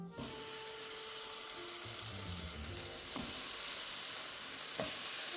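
Pear pieces searing in avocado oil in a skillet for a red cabbage salad, a continuous close sizzle with two sharp utensil clicks partway through and no talking.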